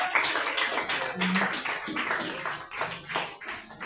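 A church congregation claps and taps at an anniversary service, a scattered, brisk round of applause heard close, with a voice speaking over it.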